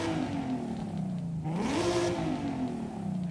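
Car engine with a sport twin turbo in Forza Horizon 5, revving continuously with pitch dipping then climbing again, steady and close without speech.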